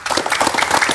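Audience applause breaks out at an East Java community talk show on farming and subsidized fertilizer, a dense steady patter of many hands clapping, fairly loud and close, for the full second.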